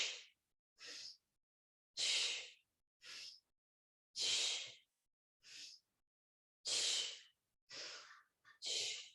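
A person breathes through a Pilates exercise with a ball: about ten sharp, forceful breaths in an uneven rhythm, close and clear, with no talking.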